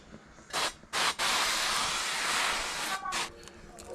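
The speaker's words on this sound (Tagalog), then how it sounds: "Spray mo natin yung coconut." Coconut oil cooking spray is sprayed in a few short bursts followed by one long steady hiss, close and fairly loud, for Korean barbecue cooking at home.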